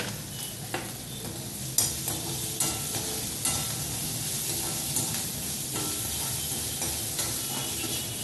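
Ginger frying in hot oil in a pan for rava upma, a continuous close sizzle broken by several sharp stirring clacks and scrapes, with no talking.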